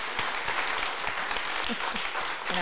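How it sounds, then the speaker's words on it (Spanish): Studio audience applause during a talk show about grief and loss, dense continuous clapping at moderate loudness, with a voice briefly audible near the end. "Un aplauso de gratitud, de amor"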